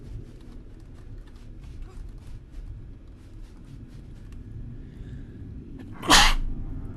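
A single sharp, loud sneeze bursts out near the end over a low background hum, with faint soft noises before it.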